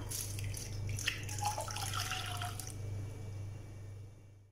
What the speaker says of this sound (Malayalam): ഇവിടെ എടുത്തു വെച്ചിരിക്കുന്ന പാൽ ഒഴിക്കാം